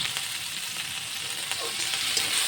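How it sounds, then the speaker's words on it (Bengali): Ginger-garlic paste fries with browned onions in a pan for a meat dish, giving a close, steady sizzle with faint stirring scrapes throughout. "হয়ে যাওয়ার পরে তাতে একটু আদা রসুন বাটা দিয়ে দিলাম"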